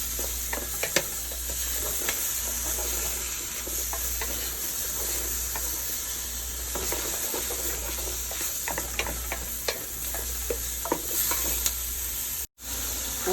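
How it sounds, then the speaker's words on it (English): Onions and bell peppers sauté in a pan on the stove with a constant close sizzle, broken by scattered crackles and the occasional stir or scrape of a utensil. "now that our onions and bell peppers have sauteed for a little bit"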